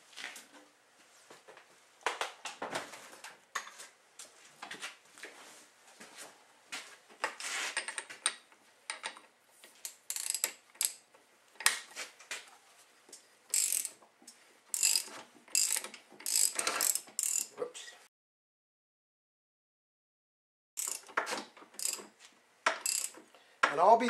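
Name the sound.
tightening a nut with a socket ratchet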